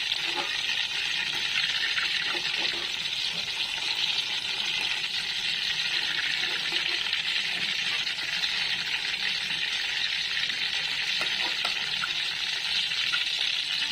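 Brinjals (eggplants) frying in oil in a pan, a steady loud hiss and crackle of sizzling that runs continuously, close up, with only faint clinks in the background.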